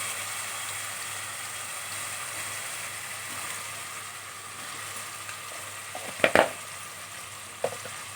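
Ground masala for mutton sambar frying in a pan, a steady close sizzle with a few sharp scraping stirs near the end.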